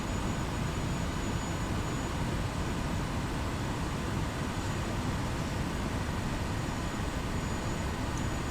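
Light airplane engine heard in the cockpit during a landing approach with the throttle cut, a steady, loud broadband drone with wind rush that stays constant and fills the whole stretch, with no talking.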